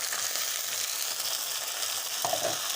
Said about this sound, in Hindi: इसको हम अच्छे तरीके से भून लेंगे